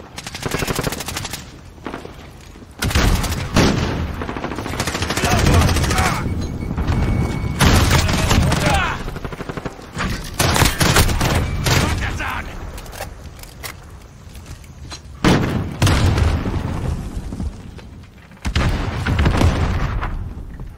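Sustained automatic weapon fire in the Call of Duty Modern Warfare video game, long rattling bursts with booming impacts, loud and close, separated by short pauses, with a voice talking intermittently over the shots.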